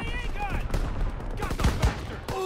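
Gunfire rattles through a video game battle in quick irregular bursts, some close and heavy, under shouted voices calling out orders.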